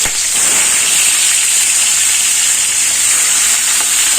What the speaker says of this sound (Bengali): মাছগুলো আমি কড়াইতে দিয়ে দেবো।